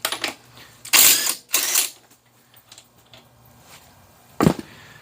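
Hub nut, a 27 mm, coming off a Honda FL350 front wheel: a few sharp close metallic clanks and clicks in separate bursts with quiet gaps between.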